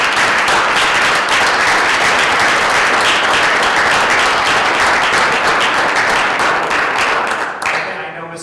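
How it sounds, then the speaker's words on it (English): A round of applause breaks out at a school committee meeting, loud, dense clapping from a room of people that holds steady for several seconds before starting to thin near the end. "Well, I think we should give you guys another round of applause."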